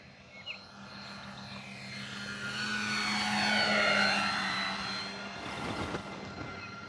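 An E-flite Beechcraft D18 RC model airplane, 1.5 m span, flies overhead with a steady twin-motor drone that swells as it nears and passes, then fades, heard alone over outdoor ambience.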